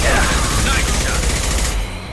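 Rapid burst of gunfire in the video game Mass Effect Legendary Edition, loud and close, dense crackling shots for about two seconds before cutting off, with faint voices mixed in.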